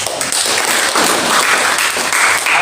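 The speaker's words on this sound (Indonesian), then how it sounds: "Tepuk tangan buat Tuhan." A congregation at a prayer fellowship in a Jakarta apartment complex claps together in loud, continuous applause, a close wash of many hands that holds steady throughout.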